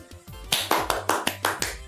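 About seven sharp, distinct hand claps from a couple of people, close and crisp, spaced unevenly over two seconds, over a faint low tonal background in a children's educational TV segment.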